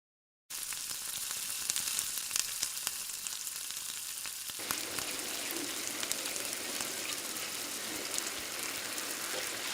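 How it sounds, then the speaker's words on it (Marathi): Green masala paste hits hot oil in a pan and sautés for a paneer dish, setting off a steady, bright sizzle after a short silence that turns harsher and louder midway and holds to the end, with no talking. "आपण जे हिरवं वाटण वाटलं होतं ना ते टाकूया वाटणी छान परतून घेऊया"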